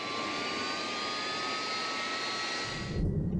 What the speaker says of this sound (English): The pilots enter the cockpit, start the engines, and taxi the aircraft towards the runway.